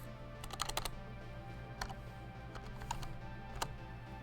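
Faint clatter of a computer keyboard as a short file name is typed, with a quick burst of keystrokes followed by a few scattered single taps over a quiet background hum.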